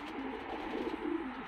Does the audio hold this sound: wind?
no